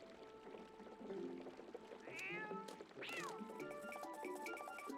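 A cat meows twice in Zelda: Twilight Princess, short rising-falling cries over a busy bed of game music and ambient sound.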